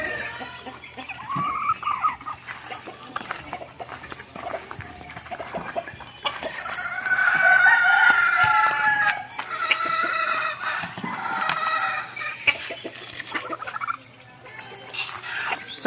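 Backyard gamefowl chickens cluck and chatter continuously nearby, with a rooster crowing loudly in the middle and scattered calls from the flock around it.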